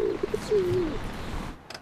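A pigeon coos softly: two or three short, quick notes followed by one longer drawn-out coo, fairly faint over a low room background with no talking.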